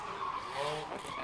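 A drift car at an amateur test-and-tune track day slides with rising and falling tire squeal over a rough engine note, loud and continuous, with people talking over it.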